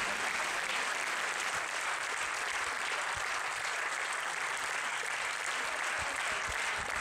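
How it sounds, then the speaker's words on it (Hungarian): An audience applauds steadily at a live stage show, a dense, even wash of clapping that continues without a break and without talk. "Köszönjük, ennyi taps nekik"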